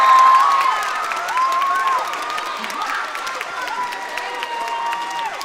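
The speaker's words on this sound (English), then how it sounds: "Can we give a big round of applause for Lena Stevens?" Audience applause with scattered cheers fills a school spring orchestra concert hall, a steady wash of clapping and whoops that slowly tapers while the crowd keeps going.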